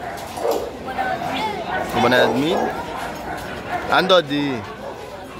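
Pit bull with a bully-type face at an outdoor dog market, giving several close yips and whimpering barks in short bursts, mixed with people talking nearby.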